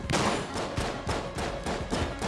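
Dense, continuous gunfire and exploding bullets from the dungeon-crawler shooter Enter the Gungeon, loud bursts pulsing in quick repeated volleys with no talk.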